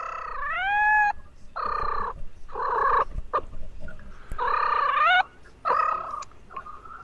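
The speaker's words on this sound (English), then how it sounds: "the mouse assassin and the president of the National Association of Cats, Uno." A cat meows repeatedly in a series of loud, close, drawn-out calls with rising and falling pitch, separated by short pauses.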